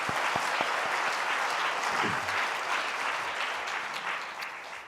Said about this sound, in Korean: 우리 하나님께 영광과 감사의 박수를 올리십시오